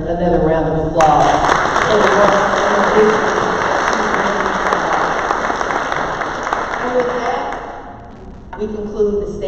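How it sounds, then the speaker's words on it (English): Audience applause for a leader at a State of HART panel event: steady, full clapping that starts abruptly, holds at high level for about seven seconds, then tapers, with brief talk before and after it. "Let's give our leader another round of applause."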